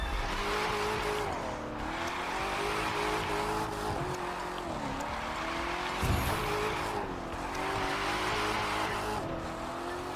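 Racing engine in The Crew 2 drifting around a drift course, with a steady loud whine rising and falling over the full stretch, tires squealing as the car slides through the turns, and a brief sharper burst near the middle.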